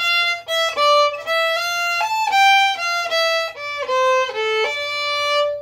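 A solo fiddle plays a run of bowed notes stepping through scales from the reel Julia Delaney's, each tone clear and sustained, close and fairly loud with no talking.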